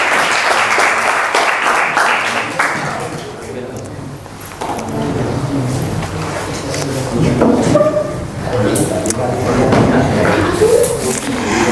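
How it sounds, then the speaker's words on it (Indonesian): A classroom group of students applauds group 4, a dense burst of clapping that fades after a few seconds, followed by chatter and talking voices. "Beri aplaus untuk kelompok 4"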